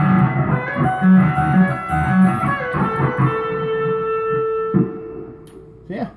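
A pedal steel guitar runs through a Mahoney Buzztone fuzz pedal, sustained distorted notes sliding and ringing with gritty overtones, close and loud, fading toward the end.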